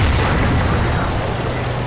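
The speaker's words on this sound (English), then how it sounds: "Centurion takes an enormous hit. I think that was an arty shell." An artillery shell strikes a Centurion tank in a tank battle game, a loud, dense boom that stays heavy and rumbling throughout with no talking.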